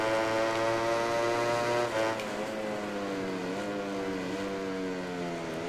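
A Yamaha racing motorcycle in MotoGP 19 screams at high revs, a loud harmonic engine note that drops sharply under braking, then rises and dips as it flicks through a chicane.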